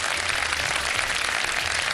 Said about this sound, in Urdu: تالیاں بجا دیں ان کے لیے